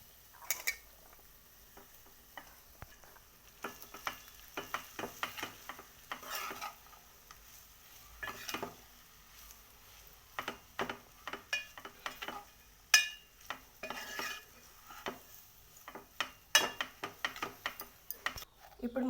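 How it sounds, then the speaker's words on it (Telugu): Cooked rice being tossed and mixed into a mint (pudina) masala in a pan, giving scattered scraping and clinking spoon-on-pan strokes at irregular intervals, close and moderately loud with no talking. "ఇప్పుడు ఇందులోకి ఇందాక మనం కుక్ చేసి పెట్టుకున్న రైస్ని వేసి మిక్స్ చేసుకుందాం"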